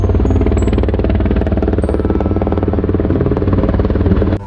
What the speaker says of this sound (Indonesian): di sini ada helikopter polisi militer